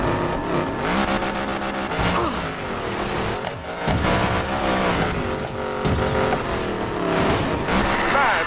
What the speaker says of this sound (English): You know when you step on the gas and the engine growls to life for a second?